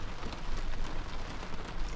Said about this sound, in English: And it's raining and storming out there.